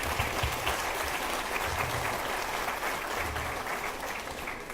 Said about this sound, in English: I didn't hold for applause